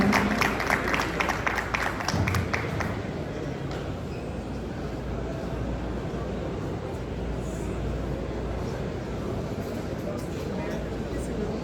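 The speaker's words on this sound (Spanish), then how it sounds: "Un fuerte aplauso, por favor." An audience at a Glasstech Mexico 24 glass-industry conference breaks into applause, a dense patter of many hands loudest in the first few seconds, then settling into a steady crowd wash with voices mixed in.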